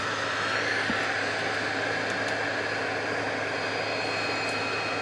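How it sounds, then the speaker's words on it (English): An Airbus A300 jet roars steadily at an airport runway at night, a broad continuous engine rush at moderate distance with no voices. "this is an Airbus A300 going to Ontario, California"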